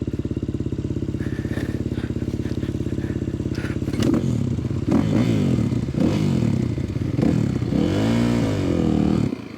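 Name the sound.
race motorbike riding an off-road ORV trail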